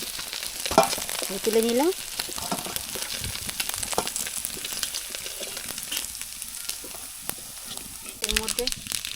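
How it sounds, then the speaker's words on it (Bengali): Silver carp pieces sizzle in hot oil with a steady broadband crackle throughout, punctuated by occasional clinks of a utensil, while someone speaks briefly near the start and again at the end. "এই মাছগুলো আমি ভেজে নিচ্ছি।"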